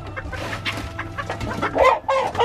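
Chickens cluck close by in a coop in Sapa, Vietnam, a busy overlapping run of clucks and squawks with a low steady hum underneath and no talk.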